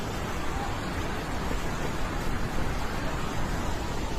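A steady, dense roar of a rushing flooded river fills the whole stretch, loud and unbroken, with no voices standing out.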